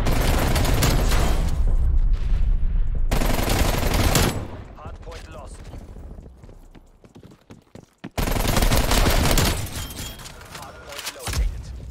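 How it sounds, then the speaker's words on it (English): Hostile artillery strike in the shooter game Black Ops Cold War: loud bursts of rapid explosive fire and booms in two heavy barrages, separated by a quieter spell of scattered impacts, with a player's voice talking over it. "Hostile artillery."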